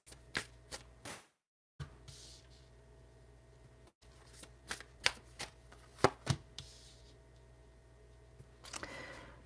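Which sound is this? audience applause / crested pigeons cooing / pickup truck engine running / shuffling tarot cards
shuffling tarot cards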